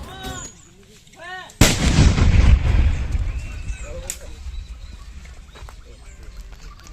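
A bomb set off by a bomb disposal squad at a safe site bursts in a single loud, sharp blast that rumbles away over several seconds, with birds chirping just before it.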